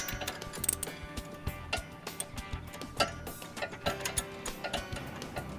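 A nut is wrenched down onto a bolt with a hat bolt, washer and lock washer, giving a quiet run of irregular ratcheting clicks and ticks.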